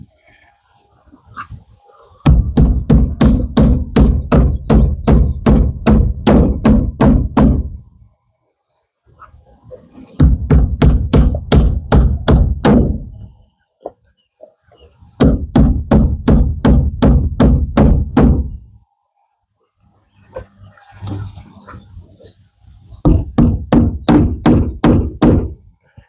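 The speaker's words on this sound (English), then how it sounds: "trying to hammer carefully. I don't want to accidentally hit the frame or the window." Rapid bursts of hammer blows nailing a prehung window frame into a tiny house wall, each run of quick strikes lasting several seconds, separated by short pauses, loud and close.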